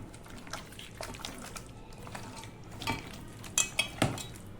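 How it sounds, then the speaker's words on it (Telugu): A spoon stirs fish curry in a pot, producing soft wet sloshing and a few sharp metallic clinks against the sides, loudest toward the end. "ఇప్పుడైతే బాగా ఈ విధంగా కలుపుకోండి"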